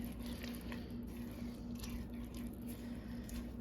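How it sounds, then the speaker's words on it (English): Thick chocolate no-bake cookie mixture with vanilla is stirred with a spoon, giving a soft, steady squishing and sticky patter, close and quiet under a constant low hum. "Stir it up. Stir it up."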